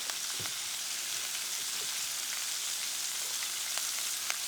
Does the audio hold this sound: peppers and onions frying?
yes